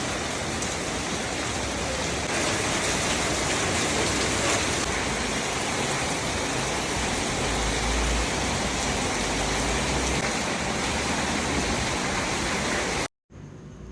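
Steady, dense downpour of heavy rain roaring without a break, broadband hiss filling the scene, cutting out abruptly near the end.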